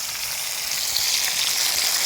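Fish frying in hot oil, a 1 kg batch cooked late at night, giving a steady, dense sizzle that stays even and close throughout with no voices.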